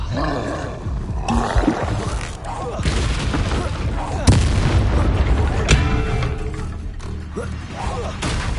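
Expelliarmus spell cast during Hogwarts Legacy combat, booming blasts and roaring impacts layered over a dense, loud battle din.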